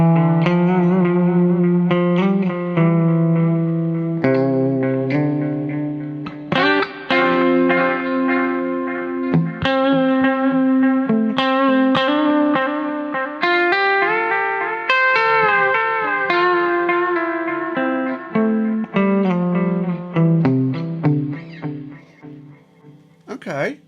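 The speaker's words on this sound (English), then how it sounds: "Get some long, more feedbacky, more echoey, see what we can make with this." A cheap guitar delay pedal set to long feedback, each played note trailing a chain of repeating echoes that wash together and thin out into a fading tail near the end; no talking over it.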